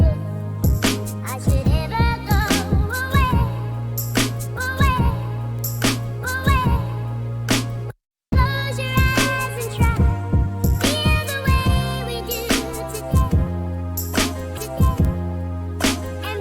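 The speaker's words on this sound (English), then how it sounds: "and all together the final drum loop sounds like this" Full drum loop built from kick, snare, shaker and tambourine, playing a steady repeating pattern loud and alone, with a brief dropout near the middle before it resumes.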